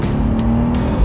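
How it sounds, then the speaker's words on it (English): A 2004 Nissan 350Z convertible with a naturally aspirated engine accelerates in a steady, loud drone from inside the cabin, rising slightly toward the end. "With a naturally aspirated engine like this, I'm surprised at how well that accelerates there."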